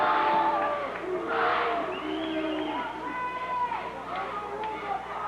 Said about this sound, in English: Enthusiastic crowd down below me here.